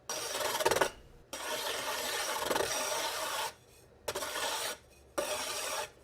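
A DiamondCore grinding disk rasps against the bottom of a ceramic pot's foot ring in loud, gritty scraping passes, broken by short silent gaps as the piece lifts off and skips.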